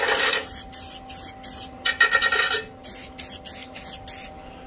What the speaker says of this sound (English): And I'm going to get ready to paint it.